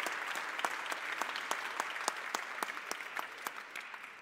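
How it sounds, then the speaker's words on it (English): An audience at a United Nations event in Vienna claps steadily, with distinct rapid individual claps that taper off slightly toward the end. "let's give a round of applause to everyone from Austria"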